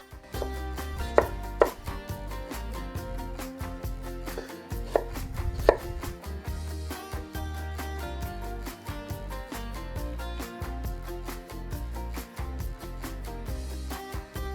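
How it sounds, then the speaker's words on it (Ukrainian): An onion is finely chopped with a knife on a cutting board, giving a long run of rapid, even, close knocks that continue steadily throughout with no talk. "Цибуля ріжеться дрібно, щоб вона краще обсмажилась."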